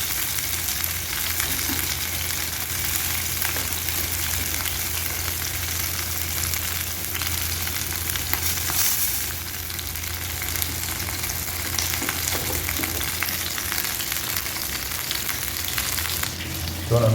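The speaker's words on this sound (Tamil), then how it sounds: "ஸோ நம்ம மீன் பொரிச்சிட்ருக்குறேன்." Fish fries in hot oil with a steady, loud sizzle and fine crackling that runs unbroken throughout, dipping briefly once or twice as the pan is stirred.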